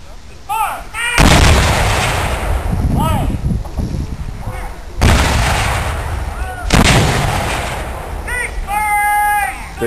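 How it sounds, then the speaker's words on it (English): Civil War artillery cannons fire at an outdoor demonstration, with loud booming blasts near the start and middle that roll off into long echoing rumbles. Voices of onlookers can be heard between the shots. "Big gun."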